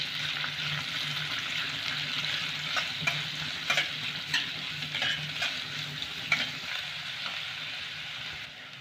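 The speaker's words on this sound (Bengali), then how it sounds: "পেঁয়াজটাকে আমি হালকা করে ভেজে নেব।" Two thinly sliced onions fry lightly in a pan, giving a steady close sizzle with bursts of stirring scrapes and clatter that rise and fall throughout, no talking.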